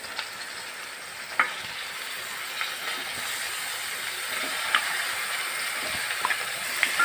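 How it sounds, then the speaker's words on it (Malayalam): Small chicken pieces frying with softened onions in a pan, giving a steady broadband sizzle with occasional soft scraping clicks from a spoon stirring, alone and moderately loud. "നന്നായിട്ട് ഇളക്കി കൊടുക്കും"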